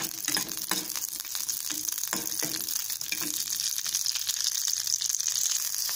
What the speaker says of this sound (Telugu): పచ్చిమిర్చి వేసి వేయించుకుందాం